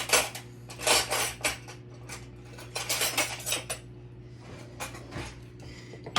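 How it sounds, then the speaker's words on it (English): A metal pastry blender cuts butter into flour in a mixing bowl, producing repeated scraping, clinking strokes against the bowl in uneven bursts, close and fairly loud over a steady low hum. "If you have a pastry blender, this is called cutting the butter into the flour."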